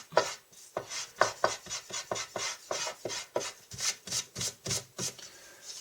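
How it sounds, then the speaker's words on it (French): An eraser rubs out pencil lines on paper for a vintage album project, a close, rhythmic series of brisk rubbing strokes repeated about twenty times with short gaps, no voices. "Je vais venir gommer mon crayon."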